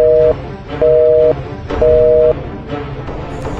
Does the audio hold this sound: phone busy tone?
yes